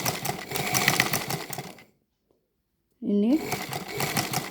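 A sewing machine stitching the pleated neckline of a jersey gamis runs loudly, cuts out for about a second of silence, then starts up again, with a voice speaking briefly over it.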